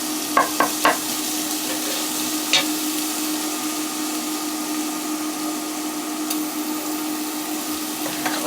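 Food fries steadily in a pan for a honey glazed chicken thighs dish, a continuous sizzle with a few sharp stirring clicks near the start and one more midway, no voices.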